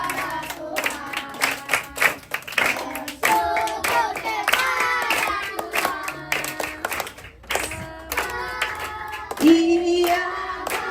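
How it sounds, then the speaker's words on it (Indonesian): Hands clap at a first birthday party, mixed with singing voices and music; the claps come in rhythmic bursts under the melody, fairly close and moderately loud. "Bersyukur, tepuk tangan."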